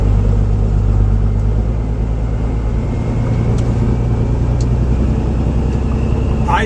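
Loud truck exhaust from a straight pipe fitted with a small 26-inch muffler, a deep steady rumbling drone that holds close and constant throughout.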